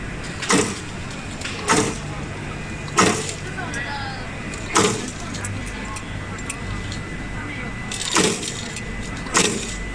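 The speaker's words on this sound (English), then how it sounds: "automatic PVC tarpaulin eyelet machine" An automatic PVC tarpaulin tent grommet eyelet machine runs in steady cycles, each stroke a sharp mechanical punch repeating about every one to two seconds over a constant background hum.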